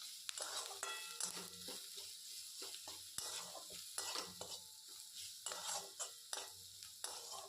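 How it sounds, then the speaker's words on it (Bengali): Ground salt, cumin, coriander, turmeric and chili powder being sautéed in a pan for egg tadka, with a soft steady sizzle under repeated scraping and clinking strokes of a spatula, quiet and close. "এবার একটু ভালো করে সমস্ত মশলাগুলোকে কষিয়ে নেবো একসাথে"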